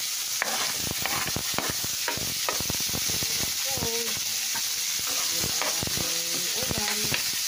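Mussels (tahong) sauté in a pan, a constant sizzle and frying hiss broken by repeated scraping clinks of a utensil stirring, close and fairly loud with no talking.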